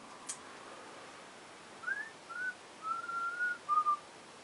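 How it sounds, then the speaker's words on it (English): A short series of clear, high whistled notes, some rising and some held, following a faint click, in an otherwise quiet room. "I just heard the whistling."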